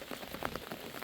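Heavy rain pours down steadily in a Thai rural setting, a dense, even patter of drops striking surfaces close by with no voices, brief and continuous.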